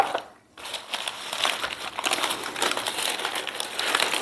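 Paper wrapping being pulled off smoked Korean BBQ pork ribs fresh from the smoker, a continuous close crinkling and crumpling that runs almost throughout after a brief pause.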